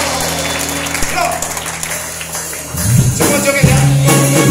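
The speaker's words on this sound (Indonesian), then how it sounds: "Berikan tepuk tangan bagi Tuhan kita." Clapping from a church worship congregation, a steady broadband patter mixed with band music and shouting voices, growing louder partway through as the instruments swell.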